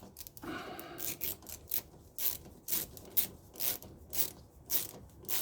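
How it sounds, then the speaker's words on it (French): Screws on the fuel filter housing of an Audi A3 being tightened crosswise in a star pattern with a ratchet, giving a steady series of short clicking, rasping bursts at close range with no talking. "Maintenant que les 5 sont préserrés, je fais un serrage étoile."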